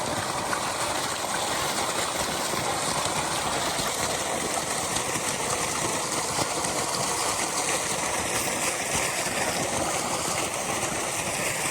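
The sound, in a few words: flowing water on a farm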